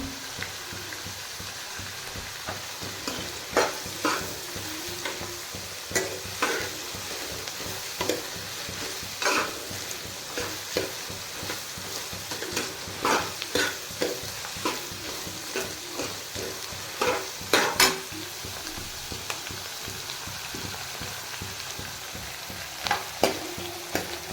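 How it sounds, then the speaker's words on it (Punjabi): Onions and green chillies sizzle steadily in hot oil, with repeated scraping stirs of a spatula in the pan, cooking continuously at close range with no talking. "ਹੁਣ ਆਪਾਂ ਭੁੰਨਾਂਗੇ ਪਿਆਜ਼ ਔਰ ਹਰੀ ਮਿਰਚਾਂ ਇਸੀ ਤੇਲ ਕੇ ਵਿੱਚ"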